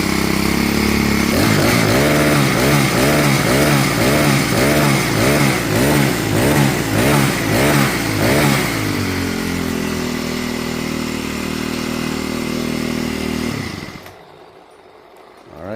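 A Troy Bilt string trimmer's small two-stroke engine runs steadily and loud up close, first with a pulsing, lumpy rhythm, then settling into a smoother idle before cutting off near the end.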